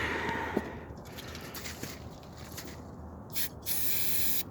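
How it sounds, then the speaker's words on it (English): Carburetor cleaner hisses from an aerosol can in several short bursts into a small Briggs & Stratton 205cc 6hp OHV horizontal engine, with faint mechanical clicks and handling noise between the sprays. "let's have to use some carburetor spray then"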